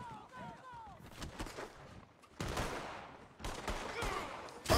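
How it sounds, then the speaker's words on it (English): Gunfire from Red Dead Redemption role-play, several shots and bursts cracking amid game noise across the clip, with a louder shot near the end; a voice is heard faintly. "Oh, they're shooting each other there."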